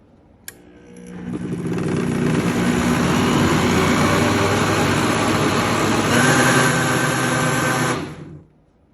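A Healnitor 1200W aluminum three-speed bullet blender spins up with a click, holds a loud, steady whirring motor drone for about seven seconds, then winds down and stops.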